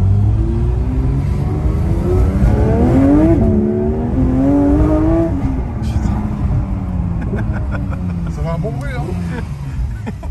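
A small car with a loud exhaust roars while driving through town, its engine rising and falling in pitch through gear changes, close and constant, as people talk over it in French.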